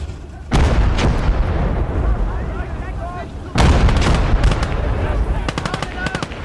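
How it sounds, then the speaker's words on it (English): An enemy artillery gun fires in the video game Gates of Hell: two heavy, loud booming blasts with long rumbling tails, then a quick series of sharp shots, while voices shout in the mix. "Achtung, feindliches Geschütz!"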